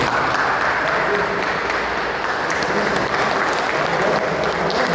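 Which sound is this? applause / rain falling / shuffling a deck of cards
applause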